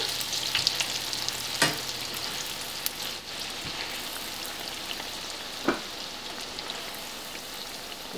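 Fauxnut doughnuts deep frying in hot oil, a steady loud crackling sizzle throughout with a few sharper pops and clinks, no talking.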